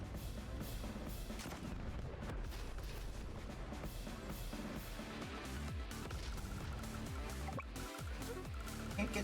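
Dense, continuous battle noise from an artillery unit attack in Advance Wars, with booming blasts and rapid gunfire bursts layered over a steady rumble, loud throughout and ending in a sharper crash.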